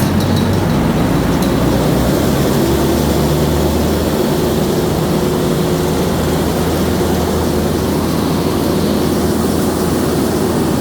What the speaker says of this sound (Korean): 제어반을 통해서 엔진을 한번 돌려보도록 하겠습니다